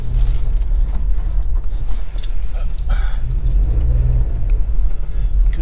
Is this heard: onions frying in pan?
no